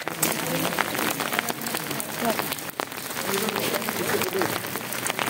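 Rain falls outdoors at a polling station in Udhampur on a voting day in bad weather, a dense, steady patter with muffled voices and crowd noise mixed in.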